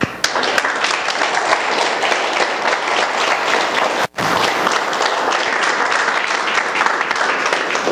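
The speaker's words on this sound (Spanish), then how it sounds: "Denle un aplauso a Dios." A church congregation applauds for God during a Spanish-language sermon, a dense and steady roar of clapping that breaks off briefly at one point and then resumes just as full.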